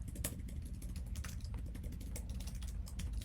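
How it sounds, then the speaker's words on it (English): Quick bursts of keystrokes on a computer keyboard entering an SSH command, a close, fairly soft clatter of irregular taps without voices. "So I'm just going to type in SSH create container"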